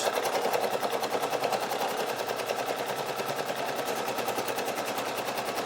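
A Brother SE1900 embroidery machine stitches an applique placement line in a fast, steady mechanical chatter of needle strokes, close and continuous with no talking.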